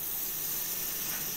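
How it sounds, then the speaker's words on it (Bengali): Butter melts in a hot kadai while wheat kulcha is being made, giving a quiet, steady, even hiss with no distinct pops. The sound is faint and fairly close, with no talking, and it cuts off abruptly at the end. "এবার কড়াইতে দিয়ে দেবো একটু বাটার"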